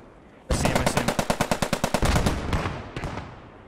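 Loud close burst of rapid automatic gunfire in Post Scriptum, about fifteen evenly spaced shots in a fast rhythm, followed by a trailing rumble and a couple of quieter distant reports.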